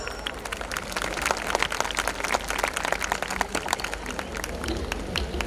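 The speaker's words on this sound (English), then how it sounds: "Welcome them with a huge round of applause." Audience clapping at a founders day evening celebration, welcoming the introducers; scattered individual claps over a dense background, with a low steady hum underneath, moderately loud throughout.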